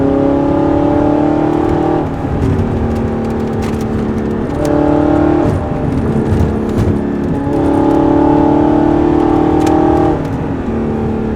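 An Audi R8 with all-wheel drive accelerates hard on a mountain road, its engine revving loud and close, climbing in pitch through gears with brief dips at each shift.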